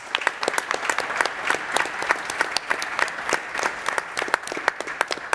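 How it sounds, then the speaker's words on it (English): An audience at a beverage competition semifinal applauds the semifinalists, with continuous dense clapping from many hands at moderate level, steady for several seconds with no voices over it. "So round of applause for our 12 semifinalists."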